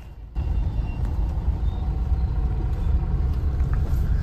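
Traffic jammed with trucks on a road in Dombivli: a steady, loud low engine rumble and idling drone that continues throughout, with no speech.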